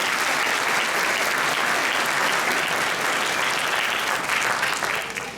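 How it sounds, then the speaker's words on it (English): Audience applause for music teachers at a school holiday concert, a sustained dense round of clapping from a large crowd that tapers off at the end. "A round of applause"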